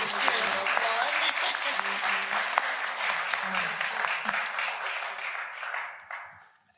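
A conference audience at a farm bill forum applauds the panelists, a dense sustained wash of many hands clapping that holds steady before fading out near the end.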